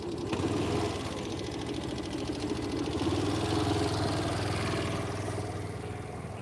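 A vehicle engine runs steadily while driving along a road, a continuous mid-pitched hum with a faint rattling texture, fairly close and even in level throughout, with no talk over it.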